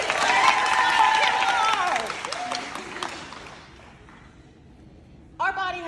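Audience applause at a pole dance convention session, loud crowd clapping with a few cheers that fades over a few seconds into near quiet before a voice begins speaking.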